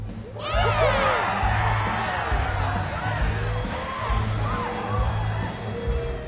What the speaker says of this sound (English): The cheering grows louder and louder.